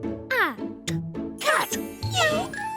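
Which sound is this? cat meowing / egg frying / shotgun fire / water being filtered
cat meowing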